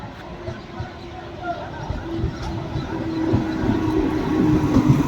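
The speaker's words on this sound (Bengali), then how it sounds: "আর একটি ট্রেন প্রবেশ করলো, এটি লালগোলা দিকে যাবে।" A Lalgola-bound train pulls onto platform 1 at Berhampore Court railway station, its low rumble building steadily as it approaches amid background platform noise.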